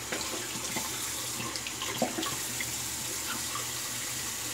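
A bathroom sink tap runs steadily for a cool water rinse during a wet shave, a continuous close splashing stream with a few small clinks over it, no talking.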